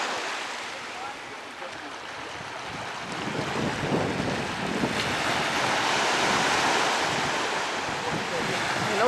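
Waves and surf churn on a windy sea off Antigua, a broad continuous wash of water with wind buffeting the microphone, growing slightly louder and rougher midway, with no talk.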